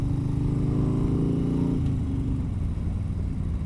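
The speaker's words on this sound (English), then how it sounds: "I hear the motorcycle" A motorcycle engine droning steadily nearby on a street in Madison, Alabama, its pitch falling partway through as it passes and fades into a lower rumble.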